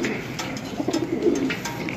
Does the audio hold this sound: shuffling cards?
no